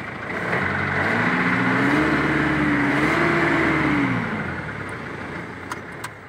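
A 2009 Mitsubishi Strada GLS pickup engine runs steadily and loud up close, its tone rising in a smooth rev and falling back to idle, with no voices.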